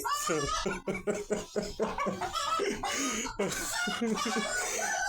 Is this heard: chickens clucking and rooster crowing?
yes